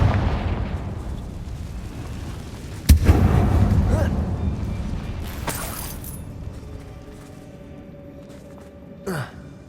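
A Confringo spell explosion in the video game Hogwarts Legacy, cast inside an old closed mine, gives one loud booming blast that rumbles and fades over several seconds, with a couple of smaller sharp impacts after.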